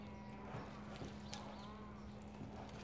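A cutting horse's hooves strike the ground in quick, irregular thuds while it moves in training. The sound is faint and distant, with a steady low hum underneath.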